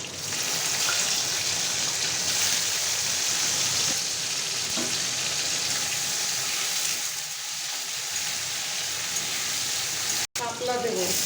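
Prawns frying in a pan for a shapla chingri jhol, a dense, steady sizzle that carries on evenly for most of the clip, interrupted by a brief sharp break near the end.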